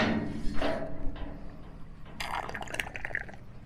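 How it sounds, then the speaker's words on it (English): A liquid wart remedy mixture for cattle is stirred and sloshed in a container, with splashing, dripping and a few knocks against the sides, close and moderately loud. "stir it up a bit. Give it a stir."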